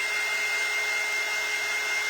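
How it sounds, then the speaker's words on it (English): A hair dryer blows steadily on a painted bird cone craft, a loud, even whooshing hum that runs unbroken from start to finish with no talking. "You just dry it with the dryer real quick."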